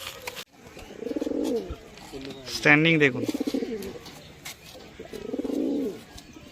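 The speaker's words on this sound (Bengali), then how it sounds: "দারুণ পায়রা স্ট্যান্ডিং দেখাচ্ছে এবার আপনাদেরকে" Soft, low pigeon coos rise and fall at the start and again near the end, with a person talking loudly in between.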